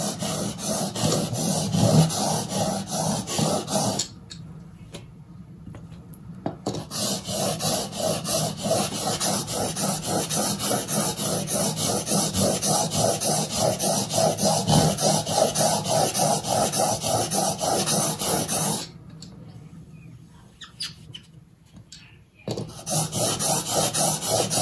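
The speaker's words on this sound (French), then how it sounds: "J'essaye de passer mon ciseau dans tous les côtés." Rhythmic rubbing and rasping of a woodworking chisel blade being sharpened on a stone, steady back-and-forth strokes close by, broken by two brief pauses.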